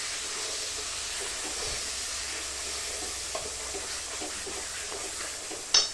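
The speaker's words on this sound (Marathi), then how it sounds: "हा मसाला मी तेलामध्ये छानपैकी फ्राय करून घेते" Ground masala paste for a fish curry fries in oil with a steady soft hiss and faint crackle, close and unbroken, ending on a brief sharp clatter.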